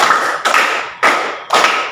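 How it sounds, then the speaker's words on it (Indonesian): Three loud, sharp claps from a classroom group clapping together in a counted rhythm, evenly spaced about half a second apart, each with a short ringing decay. "Coba tepuk 1, tepuk 2, tepuk 3."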